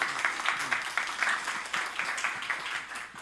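An audience claps to welcome a guest speaker at a CEO club networking party, a dense, steady burst of applause sustained for a few seconds at fairly close range, with no talk over it.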